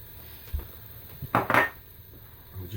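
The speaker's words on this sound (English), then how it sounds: "We'll just mix this together." Ginger, turmeric, black pepper and salt are mixed in a pot for a mutton tagine, giving a few scattered scrapes and knocks of a utensil against the pot, close and brief.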